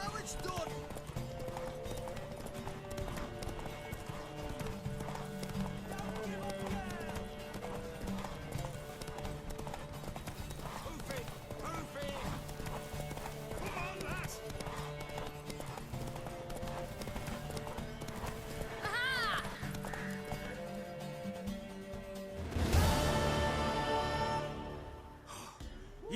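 Hoofbeats of a horse clip-clopping along in The Witcher 3: Wild Hunt, a steady rhythm running under game music and voices, with a louder burst near the end.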